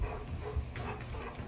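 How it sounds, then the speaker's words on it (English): A dog gives a short bark and soft whimpers amid loud, rumbly indoor handling noise, fairly faint and brief with no clear talking. "What a good dog."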